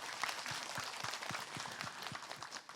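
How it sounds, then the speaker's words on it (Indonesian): Faint, distant applause from an audience at a TV Islamic talk show, with a rhythmic beat of low thumps pulsing steadily underneath. "Tepuk tangan dulu untuk Sasyam"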